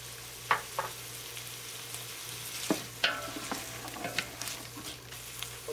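Vegetables sauté in olive oil in a pan, a soft steady sizzle broken by several sharp scrapes and clinks as a utensil stirs them.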